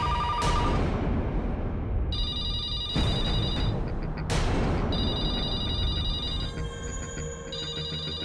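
Telephone ringing during a horror drama, repeated electronic ring bursts layered over a dense, tense background score, with no one speaking.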